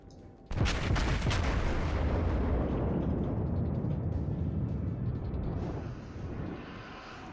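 Naval guns on a warship fire in World of Warships, a sudden loud boom that opens into a long rumbling roar and slowly fades over several seconds, with no voices over it.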